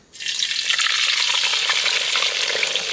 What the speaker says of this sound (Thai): ค่ะน้ำมันร้อนแล้วนะคะ แล้วก็จะเทด้วงไปแล้วค่ะ